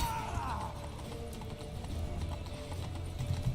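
Horse hooves clip-clop at a steady trot in The Witcher 3, loud and close, with a brief whinny-like tone near the start and voices and game sounds mixed in underneath.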